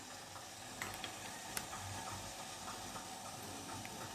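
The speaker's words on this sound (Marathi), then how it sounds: "या पातेल्यात पाणी ठेवलंय उकळायला" Water heating toward a boil in a cooking pot gives a faint, steady hiss with soft sizzling and a few tiny pops, heard alone.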